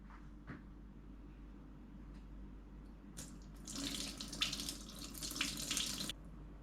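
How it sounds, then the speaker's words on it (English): Water splashes and trickles as hydrated shiitake mushrooms are squeezed out by hand over a sink, a short burst of wet running sound after a quiet lead-in. "Squeeze out all the water."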